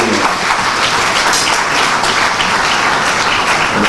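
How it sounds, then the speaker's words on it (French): A large audience at a closing ceremony breaks into sustained, dense applause, loud and even from start to finish, with no voices heard over it. "Sous vos applaudissements, s'il vous plaît, on va applaudir."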